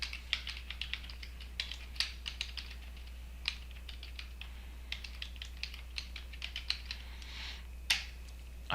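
Irregular bursts of keystrokes on a computer keyboard while entering a follow-up note in the BUCS 16.0 software, quiet and close, with a low steady hum underneath and no talking.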